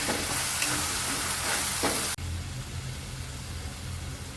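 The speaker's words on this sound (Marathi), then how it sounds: "चांगलं परतून घ्यायचं आहे आपल्याला टॅमॅटो." Tomato puree frying and being stirred in a pan while cooking paneer chingari bhaji, giving a steady close sizzle with scraping strokes that cuts off abruptly partway, then a quieter continued hiss.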